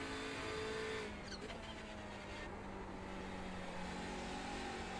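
In the iRacing sim racing game at Brands Hatch, a GT4 race car's engine drones steadily in an IMSA Michelin Pilot Challenge race. The sound is moderate and continuous, with a faint pitch shift as the car passes. No one speaks.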